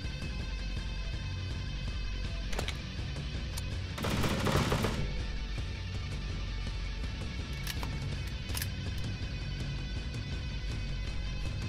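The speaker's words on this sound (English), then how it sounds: "Trusty sputter gun." Rapid-fire sputter gun shooting in a video game, a steady mechanical rattle of automatic fire with a louder burst near the middle and sharp clicks scattered throughout, up close with no talking.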